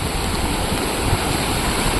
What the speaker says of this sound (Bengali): এবার আওয়াজটা শুনুন জলের যে আওয়াজ ভয়ঙ্কর যে আওয়াজ